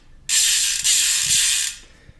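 A fast, dense ratcheting buzz of an i9 bicycle rear freewheel hub clicking for about a second and a half, loud and close, then fading out.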